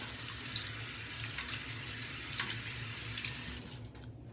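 Tap water runs steadily from a faucet into a sink while hands are washed, a constant close splashing hiss that cuts off near the end.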